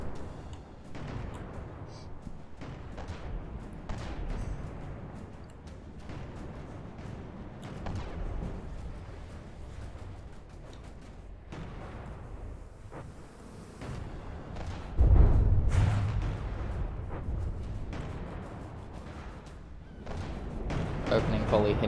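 Naval guns in a video game fire an opening volley of heavy booms at a barge amid continuous battle rumble, with a louder burst of impacts partway through and no talking over it.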